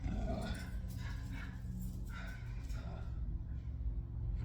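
A dog growls and roars in a low, continuous rumble at a nearby lawnmower, steady and fairly loud throughout with a busy broadband texture.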